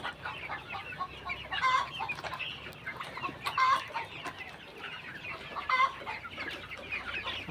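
Brown cocks and hens clucking and calling in a coop while crowding to drink salted water, a steady stream of overlapping close clucks with no talk.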